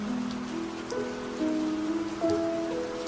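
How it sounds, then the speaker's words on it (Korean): Heavy rain drums against a window pane in a steady, close patter, with soft sustained musical tones drifting over it. "굵은 빗방울이 창을 두드리고 부딪히니"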